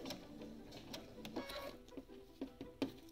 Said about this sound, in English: I'm just going to, on my sewing machine, put the pivot function on.